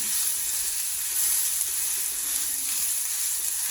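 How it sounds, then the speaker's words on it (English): Steak searing in a hot pan gives a loud, steady, close sizzle with a constant crackling hiss and no voices. "place your meat down in the pan and press it down"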